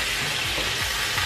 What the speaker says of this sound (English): That's the sizzle you're supposed to look for.